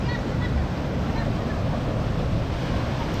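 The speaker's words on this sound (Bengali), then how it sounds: "জলের স্রোতটা আসছে" A water current rushes over rocks worn full of holes by the flow, a dense steady broadband wash close to the microphone with some wind buffeting.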